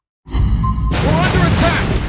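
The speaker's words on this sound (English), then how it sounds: "Enemy ship destroyed." A burst of destruction hits in a naval battle game as an enemy ship is destroyed, a loud broadband boom rumbling on for about two seconds after a brief tonal lead-in.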